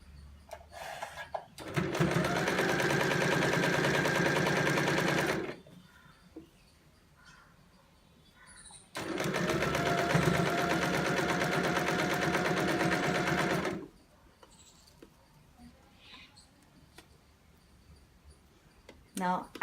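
A sewing machine runs a zigzag stitch on a Christmas table mat in two sustained bursts of fast, even whirring and clatter, separated by quiet pauses with faint handling sounds.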